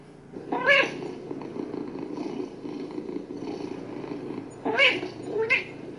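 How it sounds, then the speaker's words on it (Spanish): A recorded cat meows from an Amazon Echo Spot smart speaker a few times, one early and two near the end, over a low background hum. "Aquí viene un sonido de gato."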